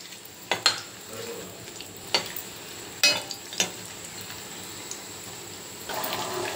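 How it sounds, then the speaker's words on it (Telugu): Chicken balls frying in hot oil, a steady low sizzle broken by several sharp clattering stirs and splashes, heard up close with no talking. "ఇప్పుడు నేను వీటిని వేయించి మీకు చూపిస్తాను అండి"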